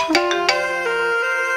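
A mobile phone rings with an incoming call, its melodic electronic ringtone sounding clear and fairly loud for a brief moment with no talking.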